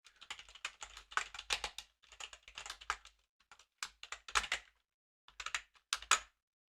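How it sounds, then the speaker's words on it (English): Typing on a computer keyboard during live coding in C, with quick bursts of close key clicks broken by short pauses, alone and without talk. "And let me type this first"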